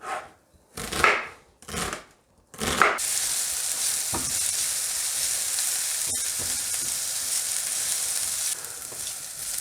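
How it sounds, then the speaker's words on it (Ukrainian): Finely chopped onion hits hot oil and sizzles steadily and loudly after a few seconds of knife chopping on a board, with occasional stirring clicks through the continuous frying hiss. "Дрібно нарізаємо цибулю та обсмажуємо на олії до м'якості."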